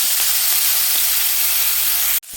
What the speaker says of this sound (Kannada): ಇದು ಬೇಗ ಬಿಸಿಗೆ ಫ್ರೈ ಆಗಿಬಿಡುತ್ತೆ